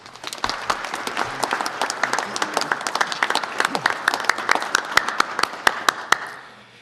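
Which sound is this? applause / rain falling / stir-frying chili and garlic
applause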